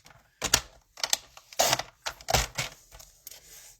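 A paper trimmer slicing through cardstock in a few short, sharp strokes, each a crisp scraping cut with small clicks between, close and fairly quiet.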